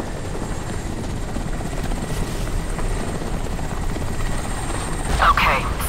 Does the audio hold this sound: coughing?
no